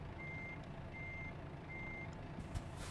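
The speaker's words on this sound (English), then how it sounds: "get that annoying beeping off" Truck reversing alarm in American Truck Simulator: three evenly spaced steady beeps over a constant low engine rumble, with a short thump near the end.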